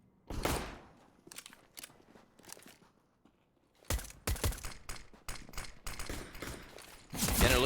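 Gunfire in Counter-Strike: Global Offensive as a player lands a headshot through smoke. Sharp, loud shots come in a quick cluster, then a brief lull, followed by rapid overlapping volleys that build to a dense burst at the end.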